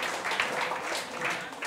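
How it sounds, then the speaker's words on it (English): Faint, steady clapping from a crowd, soft and somewhat distant, running continuously without voices on top. "You can clap for that."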